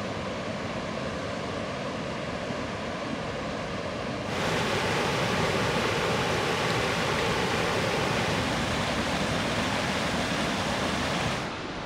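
A small waterfall, Millhole Falls in the Ozarks, pours in a steady broadband rush that swells louder partway through and holds, with no voices.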